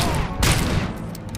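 Video game gunfire shooting a grenade out of the sky, a brief, loud burst of rapid shots with a booming impact in the middle.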